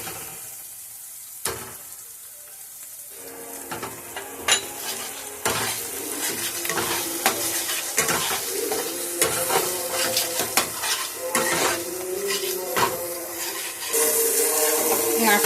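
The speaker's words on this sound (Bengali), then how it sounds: "নারকোল বাটাটা দিয়ে একটু নেড়ে নিলাম।" Coconut paste is stirred in a frying pan, a soft sizzle building as a spatula scrapes and clinks against the metal in uneven strokes. The sound starts quiet after a brief pause and grows louder and busier toward the end.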